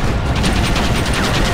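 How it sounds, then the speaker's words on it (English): Dense volley of gunfire aimed at powder kegs in Red Dead Redemption on PC, a loud continuous fusillade of overlapping shots with booming impacts and no pause. "Mano, shoot the barrels."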